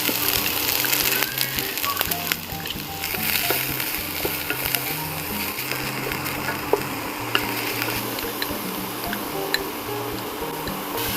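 Onions with ginger and garlic fry steadily in a hot pan, a continuous close sizzle with occasional faint ticks of stirring, no talking.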